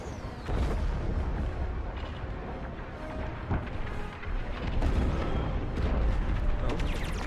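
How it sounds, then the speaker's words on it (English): A frigate exploding in Star Wars: Squadrons, a dense rumbling roar of blasts and booms that holds loud and continuous, with faint voices mixed underneath. "The frigate is about to explode."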